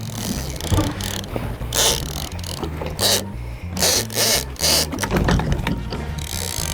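Fishing reel cranked steadily while fighting a hooked fish from a boat in the Bahamas, giving a close, continuous ratcheting whir with repeated pulses of clicking and gear noise, no voices.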